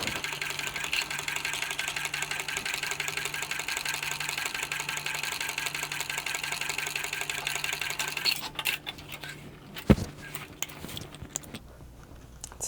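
A sewing machine runs a steady, fast stitch across the bottom of a vinyl tote bag for about eight seconds, then stops. A few handling knocks and clicks follow, with no talking.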